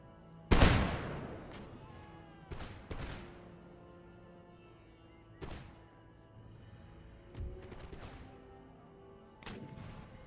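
Musket volleys and cannon-like booms from an Empire: Total War battle ring out as separate sharp cracks with ringing decay, roughly every two seconds against a quiet backdrop of game ambience.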